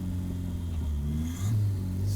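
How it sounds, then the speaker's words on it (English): A home-built turbocharged Toyota Celica engine rumbles loudly at low revs while a thin, high whistle rises and fades twice above it as the turbo spools up. "low speed, low RPM, the turbo spool,"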